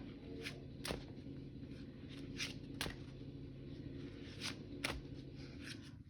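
Playing cards being shuffled, several short crisp riffling bursts spaced irregularly over a quiet background hum, close and fairly faint.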